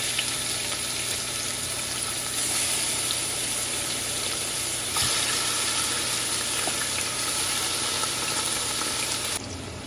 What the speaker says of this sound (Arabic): هسه نخلي الدجاج بعد ما البصل يعني اخذ حمسه